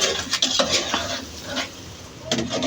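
Mother frying food in a pan in a home kitchen while cooking a curry, with clinks of a utensil stirring against the pan and a soft sizzle, in short bursts at close range with no talk.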